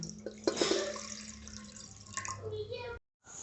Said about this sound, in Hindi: अब मैंने इसमें आधा किलो पानी डाल दिया